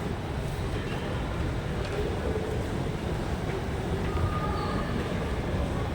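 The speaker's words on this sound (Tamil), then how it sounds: "இது மேலே எக்ஸிலேட்டர் மேலே போயிட்டுருக்கு." An escalator runs at a shopping mall entrance, giving a steady, dense mechanical rumble and hum that fills the space, with faint crowd murmur mixed into the constant drone.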